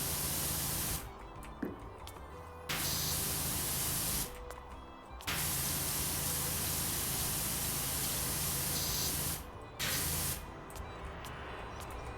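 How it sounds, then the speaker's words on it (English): A pressure washer blasting a toilet in the video game Power Wash Simulator, loud steady hissing spray in long bursts broken by three short pauses. "I accidentally sprayed that toilet quite a bit"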